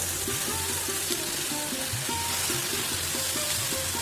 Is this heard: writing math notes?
no